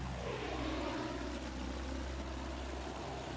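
A Bristol propeller biplane engine in Battlefield 1 drones steadily, a constant low hum with a slowly shifting whine, continuous and fairly even with no voices.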